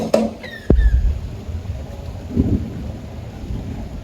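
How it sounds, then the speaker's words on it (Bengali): Heavy rain falling outside with thunder: a low rumbling crack early on, then a steady wash of rain and a softer second rumble, with no talk over it. "ঝপঝপ শব্দ, বৃষ্টি হচ্ছে বাইরে"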